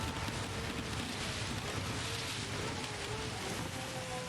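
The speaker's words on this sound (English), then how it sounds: "the rain keeps coming." Steady rain pours down in the Gran Turismo 7 racing game during a race at Fuji Speedway in a Mazda 787B, a dense constant hiss with faint rumble underneath, no talking.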